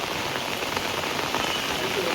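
Village rain pours down steadily, a dense even hiss of drops striking surfaces, close and unbroken without any voices.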